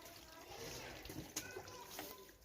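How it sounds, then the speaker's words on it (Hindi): Water runs from a tap in a steady hiss with a faint trickle and a sharp clink partway through. It is moderately loud and close, with no talking heard. "टूटी चल गई"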